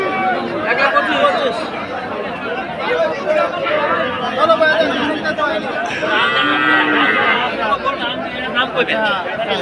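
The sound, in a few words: local Friesian cross dairy cow mooing at cattle market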